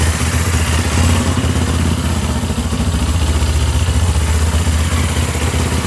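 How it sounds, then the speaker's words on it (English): A motorbike engine runs close by with a steady, throbbing idle and a light mechanical clatter that holds evenly from start to finish. "Now you're showing off with your motorbike."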